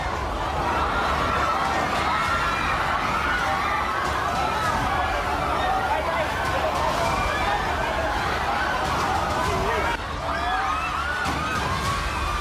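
People scream and shout together as a crowd during a magnitude 7.8 earthquake in the Philippines, a dense, continuous wall of many overlapping voices at steady loudness.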